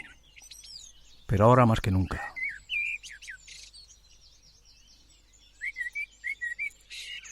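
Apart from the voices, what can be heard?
blackbird singing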